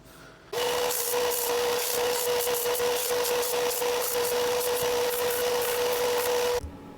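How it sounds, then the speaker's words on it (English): A power sander works on wood for a steampunk Tardis console, starting abruptly and running as one loud, steady whine with a rough scraping texture for about six seconds before cutting off. "Right, let's get sanding."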